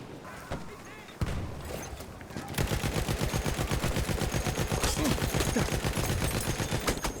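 Rapid automatic gunfire from a first-person shooter video game, a dense, steady stream of loud shots running continuously after a brief quieter stretch of scattered effects at the start.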